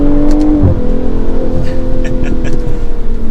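A 2022 BMW M440i Gran Coupe xDrive accelerates in third gear, its engine note a loud, steady rising drone heard from inside the car, with a brief shift-like break near the start and no talk.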